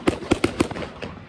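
Backyard fireworks bursting in a quick irregular series of four or five sharp crackling bangs, close and loud, the last pops fading into a faint tail.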